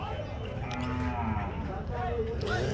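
Cows and calves at the Punganur cattle market, with a low moo rising from a busy outdoor background of livestock noise and faint voices.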